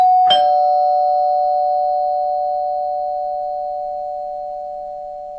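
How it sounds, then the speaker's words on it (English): A doorbell rings in an animated movie: a single bright strike that settles into a long, steady sustained electronic tone, loud and alone, slowly fading over several seconds. "time for us to ring the doorbell so we can get the best night of our life started"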